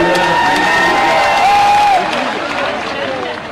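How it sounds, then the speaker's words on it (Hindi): A large outdoor crowd at Jyotiraditya Scindia's political rally in Morena claps and cheers in a steady wash of applause, with a loudspeaker voice and whistles mixed in. "एक बार दोनों हाथ ऊपर उठा के ताली बजा के स्वागत कीजिए"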